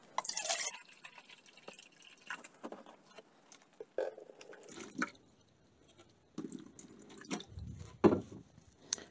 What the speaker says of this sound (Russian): Первый раз воды будем наливать вот таким вот мерным стаканом